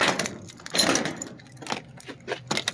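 A bunch of many keys on a ring, including work, toolbox, garage, house and car keys, jangles in a few close metallic bursts with brief pauses between shakes.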